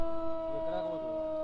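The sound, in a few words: alert siren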